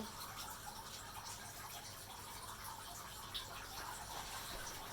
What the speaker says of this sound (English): Got water flowing from the top into the first stage.